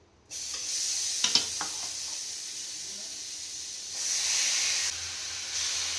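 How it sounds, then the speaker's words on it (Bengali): Chicken marinated in mustard oil hits a hot wok with a sudden loud hiss, then settles into a steady sizzle that swells again near the end, with brief stirring clatter and no talking. "আমি চিকেনটাকে গরম কড়াইতে দিয়ে দেবো"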